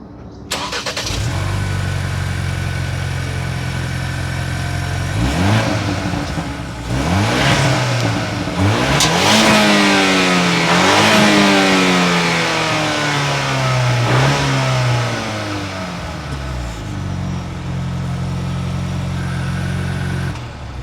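Exhaust of a 2025 Ford Bronco two-door base 4x4 with the Sasquatch package, idling steadily and then revved several times in rising and falling sweeps before settling back to idle, loud and close, with no talk.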